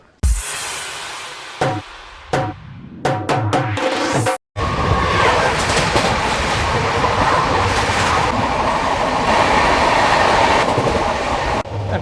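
Swarnajayanti superfast express, train 12804, running with a steady loud clickety-clack and broad rumble of wheels on rail, after a few sharp knocks and a brief cutout near the start, continuing evenly to the end.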